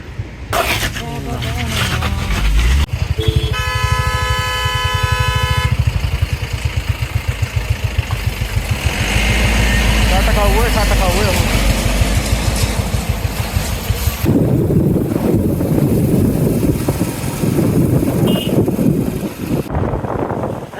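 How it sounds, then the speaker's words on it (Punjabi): Bullet motorcycle engine labouring on a broken mountain road in light rain, a loud steady thumping drone that shifts in pitch as it strains, with someone talking over it. "ਲੱਗਦਾ ਪੂਰਾ ਜ਼ੋਰ ਮੋਟਰਸਾਈਕਲ ਦਾ ਹੋਵੇ ਮੋਟਰਸਾਈਕਲ ਦਾ ਵੀ ਜ਼ੋਰ ਲੱਗਦਾ"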